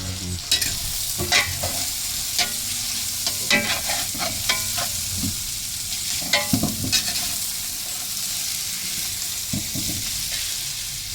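Garlic fries in a pan with a steady close sizzle, broken by repeated scraping stirs and clicks of a spatula against the metal, irregular bursts over continuous frying noise.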